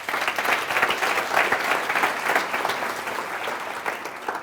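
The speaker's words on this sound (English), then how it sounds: "Let's give him a round of applause." Audience at a JavaScript conference talk applauds, a steady mass of clapping from a moderately sized room, even and sustained throughout, with no talk over it.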